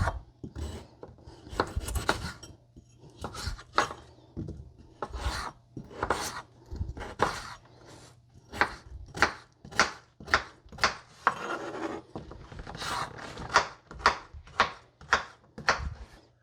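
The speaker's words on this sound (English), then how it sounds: "we're going to cut the potatoes" Potatoes cut into pieces for a winter potato soup: a steady series of close, crisp knife chops on a board, about a dozen sharp strokes in an uneven rhythm.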